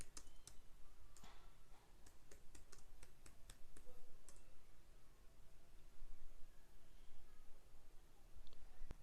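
A series of sharp mouse clicks on a computer in a quiet room, a dozen or so crisp taps spaced unevenly in the first half, then only low background hiss.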